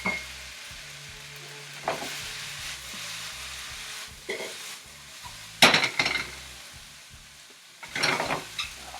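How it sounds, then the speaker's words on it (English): A pot of water boils on a home kitchen stove, a steady low bubbling and hiss running throughout with a few louder clinks and bursts of activity scattered between quieter stretches. "Okay, so our water is boiling"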